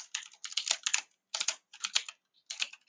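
Python code is typed on a computer keyboard in quick bursts of close, crisp key clicks separated by short pauses.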